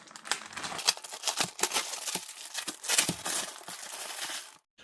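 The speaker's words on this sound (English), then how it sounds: "Let me just cut it out of the pack." A raw beef brisket being cut out of its plastic pack: close, continuous crinkling and tearing of plastic with rustling bursts, loud and dense, ending in a brief silence.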